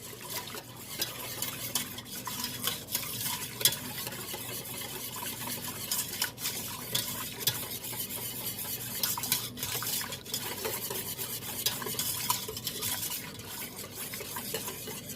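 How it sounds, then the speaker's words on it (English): A whisk stirring milk into a warm sauce for homemade mac and cheese, scraping steadily and rhythmically against a metal pan with a faint sizzle underneath, continuous and close, no talking. "Keep whisking. You'll see it start to thicken."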